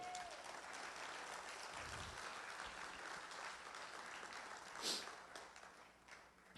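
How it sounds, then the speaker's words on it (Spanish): Church congregation applauds together during a sermon, a steady, moderately faint wash of clapping that holds throughout, with a brief louder burst near the end. "Dale un aplauso al Señor."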